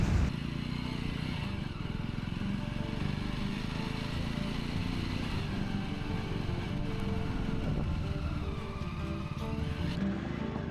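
A motorcycle engine drones continuously while riding over a sandy off-road track, a steady, close, rough rumble for the whole stretch with no talk.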